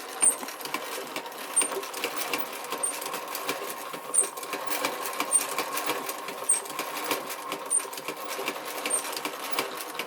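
A Singer 72W12 hemstitch sewing machine runs steadily with a fast, even mechanical whir and rapid stitching patter, plus a faint periodic high click about every second, heard close with no talking.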